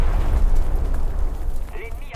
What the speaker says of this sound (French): Si on appelle ça une bombe.